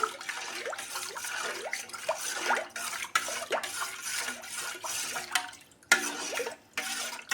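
Water mixed with added ingredients is stirred with a spoon in a container, giving soft repeated sloshes and light clinks in an irregular rhythm, faint and close, with short pauses between strokes.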